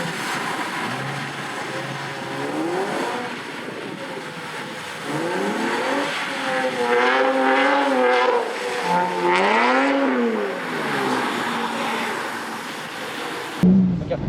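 A car drifts with its engine revving hard in rising and falling sweeps and tires squealing, loud and close, the engine pitch climbing and dropping repeatedly before cutting off abruptly at the end.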